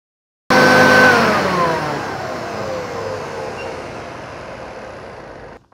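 A heat gun powered by a Goldenmate 12v 200Ah LiFePO4 lithium battery starts abruptly with a loud whirring blower tone that slowly drops in pitch as it keeps running, then cuts off near the end.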